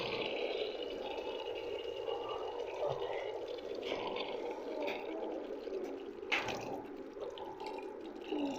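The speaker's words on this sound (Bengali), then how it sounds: "এই যে আমি এতটুকু পরিমাণের পানি দিছি" Water pours steadily into a pressure cooker of chicken for several seconds, a soft continuous splashing with a few small drips and clinks, close by.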